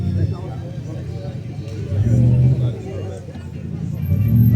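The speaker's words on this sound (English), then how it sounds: "Taking his time parking it up, but sound is lovely." A show car's engine rumbles at low speed while being parked at a British car day, its note swelling with brief throttle blips amid crowd chatter and people talking nearby.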